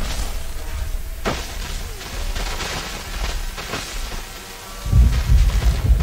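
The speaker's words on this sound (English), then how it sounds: "Dodge the lightning globes." Lightning globes attack in the tower defense game Top Keep Tower Defense, throwing out heavy electric booms and cracks, one sharp strike early and a deep rumbling blast near the end, over a constant crackling game background.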